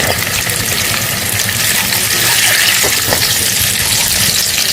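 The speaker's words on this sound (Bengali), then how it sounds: "30 থেকে 35 সেকেন্ড মতো নেড়ে ছেড়ে নিয়ে এর উপরে দিয়ে দেবো চিকেন।" Chicken added on top of chopped onions frying in a pan for chili chicken gives a loud, continuous sizzle and crackle, close and steady throughout, with no voices.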